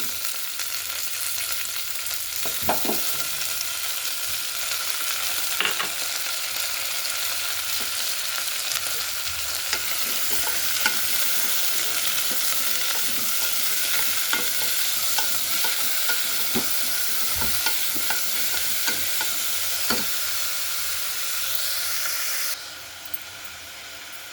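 Carrot, capsicum, tomato and potato pieces with ginger-garlic paste fry in a pan, giving a loud, constant sizzle broken by the repeated scrape and clack of a stirring spoon.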